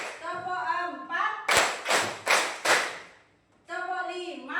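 Four loud, evenly spaced group claps ring out in a steady counted rhythm in a classroom, with children's singing or chanting voices before and after.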